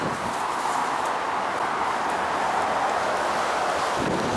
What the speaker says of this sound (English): Whoa, that's a big gust.